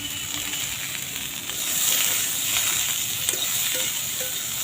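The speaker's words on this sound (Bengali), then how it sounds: "এরকম করে ভেজে নেব" Vegetables such as beans and carrots fry in a pan with a little salt and turmeric, giving a steady close sizzle and hiss that swells midway, with occasional light clinks.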